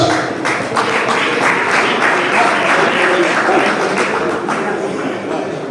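Loud, sustained crowd applause with dense clapping fills the whole stretch at a school old boys' fundraising drive to renovate Busoga College Mwiri, holding steady throughout.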